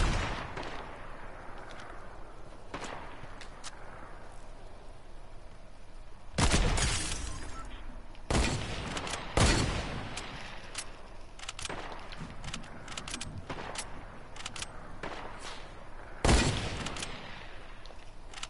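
Gunfire in the video game Fortnite, scattered loud shots and short bursts at uneven intervals, some close and sharp, others fainter, over a low steady background.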